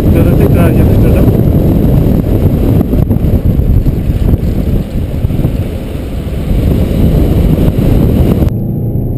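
A Peugeot 301 1.6 HDi 92 HP diesel car accelerates at full throttle with a loud, steady, continuous low engine roar heard from inside, mixed with wind buffeting, until it cuts off abruptly at the end.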